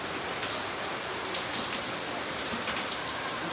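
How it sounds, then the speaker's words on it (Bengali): Heavy rain pours steadily, a dense, continuous hiss of drops drumming on surfaces with no pauses. "বৃষ্টিটা ভালোই জোরে হচ্ছে।"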